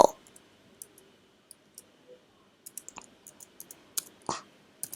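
Someone types on a computer keyboard in scattered light clicks and short bursts, close and alone, with a sharper swipe near the end.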